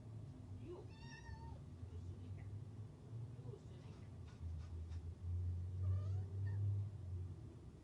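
A house cat gives a couple of soft, short meows, one early and one later, over a quiet low rumble in the room.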